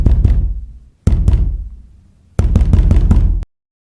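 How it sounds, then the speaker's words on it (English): Three loud, sharp knocks strike a metal front gate on a Texas ranch, each hit rattling and ringing briefly, spaced about a second apart, with nothing else heard. "3 sharp knocks echoed off the metal of my front gate like gunshots through the open Texas air."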